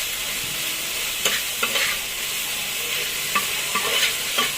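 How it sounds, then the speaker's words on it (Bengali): Small local shrimp frying in a pan and being stirred until reddened, a continuous close hiss of sizzling oil broken by occasional scrapes and taps of the spatula. "দিয়ে নাড়াচাড়া করব, করে সুন্দর করে লাল লাল করে ভেজে নেব।"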